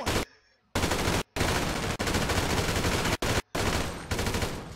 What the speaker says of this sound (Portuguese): Recarrega e atira, vai!